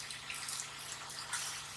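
Water sprays steadily onto a car during a home wash, a faint continuous hiss and splash with slight fluctuations, with no voices over it.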